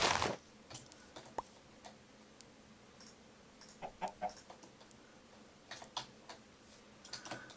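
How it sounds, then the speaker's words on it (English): A Minecraft chicken gives a few soft clucks against faint background game ambience, mixed with scattered light clicks and ticks like keyboard typing. "there is a chicken right there"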